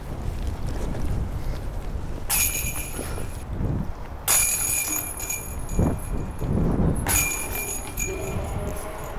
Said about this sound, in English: Oh, whoa. It's so windy.